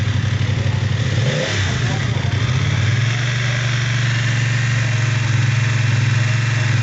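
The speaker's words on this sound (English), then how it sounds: "I think all of you guys can hear the sound of the bike. That is amazing. This is throttle once again." A BMW F900R twin-cylinder motorcycle engine revs up close, dipping and rising for the first few seconds before settling into a steady, loud, throbbing idle that runs throughout without talk.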